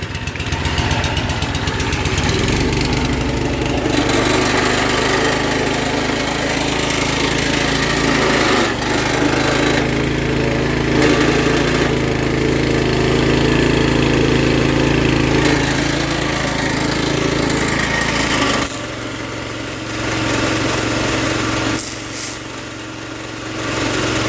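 A Harbor Freight gasoline pressure washer, nine years old, runs with a steady, loud engine drone that stays close and continuous for the whole stretch, easing slightly near the end, with no talk over it.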